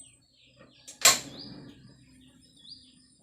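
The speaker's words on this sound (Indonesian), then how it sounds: "Terus kita nyalakan kompornya" A gas stove is switched on with one sharp, close click-burst from the igniter, then a faint, low hiss that trails off in an otherwise quiet room.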